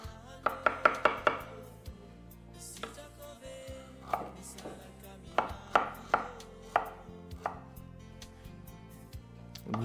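Food being pounded for fish sauce: sharp, close knocks in quick rhythmic bursts of four or five, with pauses between the bursts, set against quiet kitchen background and no talking.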